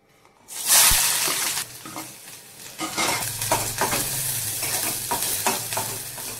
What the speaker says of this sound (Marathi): आता हा कांदा आहे तो थोडासा गुलाबी होईपर्यंत भाजून घेऊ तेलामध्ये